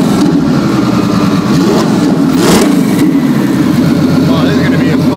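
A loud Ferrari F12 twin-turbo engine running close by, its pitch rising and falling as it is revved, with voices talking over the rumble.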